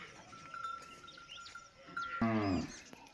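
Cattle and Kankrej buffaloes at a farm in Kutch's Banni region, with one animal letting out a loud, close moo near the end over quiet barnyard background.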